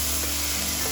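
Spices sizzle steadily in hot oil for pea ghugni, a dense close frying hiss filling the whole short moment without pause.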